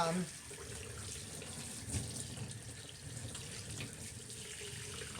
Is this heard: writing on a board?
no